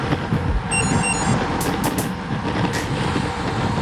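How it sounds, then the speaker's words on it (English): Bike computer navigation chimes, a short series of thin electronic beeps warning of a turn, sounding briefly near the start over steady wind and road noise during a group ride on the road. "That's my navigation beeping to let us know there's a turn coming."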